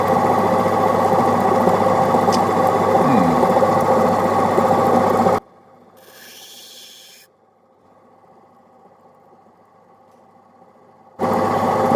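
Opal held against a lapidary grinding wheel gives a steady, loud, even grinding whir that cuts out about halfway through, leaving near silence, then starts up again just before the end.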